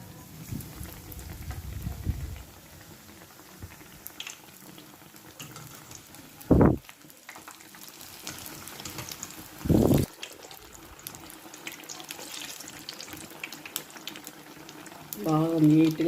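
Bread bajji frying in oil, a low bubbling sizzle heard beneath someone speaking, with a few louder bursts of clatter or handling.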